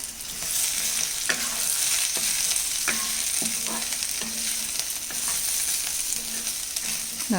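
Chinese potato (koorka) stir-fry roasts in an open pan, a constant sizzle broken by repeated scrapes and clinks of a spoon stirring, close and clear with no talking.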